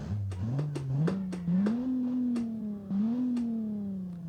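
A simulated 1992 TAIF 3500 GT road car engine in BeamNG.drive revs and climbs steadily through the gears, a droning tone with periodic shift clicks, loud and alone.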